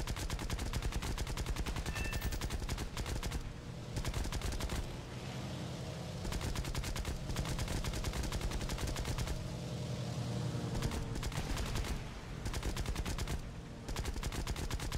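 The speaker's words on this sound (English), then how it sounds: "He's still shooting." Enemy aircraft gunfire in War Thunder, long rapid bursts of machine-gun fire broken by short pauses, loud and sustained over a constant engine roar.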